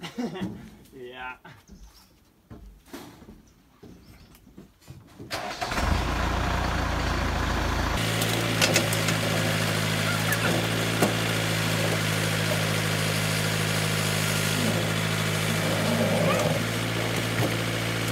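Old 1928 Ford roadster barn find cranks over and catches, then settles into a steady, loud idle that runs on alone after brief low talk at the start.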